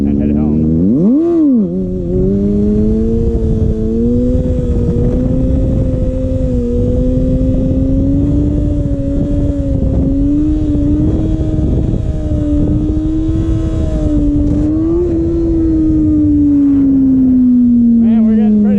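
A Kawasaki ZX6R motorcycle being ridden, its engine a loud, close drone that dips and climbs in pitch with throttle changes, continuous under wind rush.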